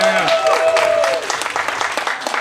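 Audience applause at a stand-up comedy show, a short burst of clapping that starts under a voice, with a tone sliding over the first second, then thins out toward the end.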